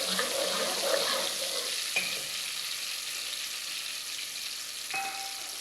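A tomato sizzles and fries in a pan with moong daal masala, a steady hiss with occasional stirring clinks of a spoon against the metal pot, no talking.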